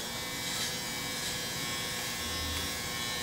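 Electric hair clippers with an inch blade hum steadily while cutting a man's hair from long to short, a close continuous buzz with no talk.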